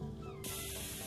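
Cat meow in the video game The Final Station, a brief mid-pitched cry heard close against a steady hiss and low game ambience, with no talk.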